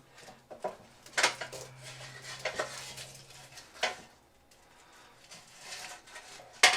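A whole roast chicken being flipped in its roasting pan, a few sharp metallic clanks and scrapes of utensils against the pan at irregular intervals, close and fairly loud amid quiet gaps.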